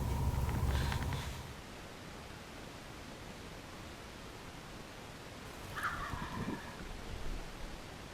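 A wild turkey gobbles during Pennsylvania spring turkey season. There is one strong gobble at the start and a fainter one several seconds later, with hiss and rustling outdoors in between.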